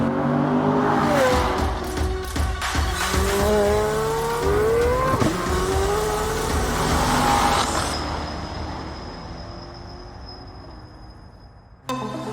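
A C8 Corvette Z06 engine revs hard and loud with rising and falling pitch, then settles into a steady whine before a sharp burst at the end.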